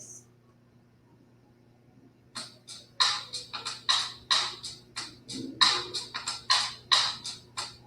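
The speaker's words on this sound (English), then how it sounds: "And drums sound a little something like this." A drum kit is played in a quick run of sharp, crisp hits with a steady driving rhythm, moderately loud over a low constant hum after two quiet seconds.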